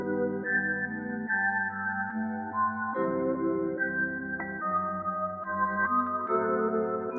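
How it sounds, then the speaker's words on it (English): A spooky trap melody, built in FL Studio, with sustained, harmonically rich synth notes that step through a slow, dark chord sequence. It plays at a steady, moderate level with no voices. "It was kind of like a spooky melody."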